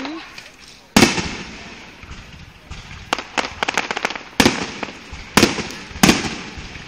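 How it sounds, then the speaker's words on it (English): Distant fireworks at a bear camp going off in a series of sharp bursts, about five or six loud cracks spread over several seconds with crackling tails and a few smaller pops between them, heard outdoors. "Like we seen fireworks."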